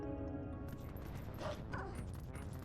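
A wolf in the video game The Legend of Zelda: Twilight Princess gives a short, close bark and yip, followed by brief whimpering sounds, all within a couple of seconds.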